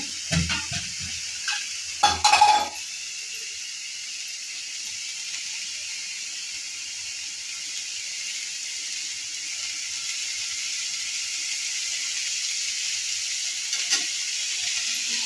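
Oil in a hot pan while cooking a village-style bharangi leaf vegetable gives a steady, soft sizzle and hiss that runs on alone, after a few brief clatters of a utensil near the start.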